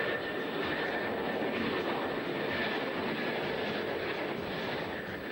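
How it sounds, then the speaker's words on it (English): A Concorde jet airliner coming in to land gives a steady, broad, loud rumble with a constant roar and no breaks. "The rumble of Concorde coming into land is nothing like the noise it makes when it flies supersonic."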